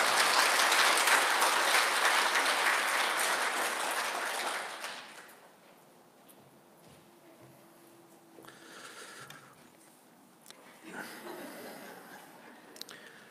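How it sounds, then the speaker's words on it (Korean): Applause from an audience at a parish hall lecture greets a visiting Catholic priest, loud and sustained for about five seconds before dying away into quiet room noise with faint murmurs. "오늘 강연을 위하여 멀리 오신 신부님께 박수 한번 부탁드리겠습니다"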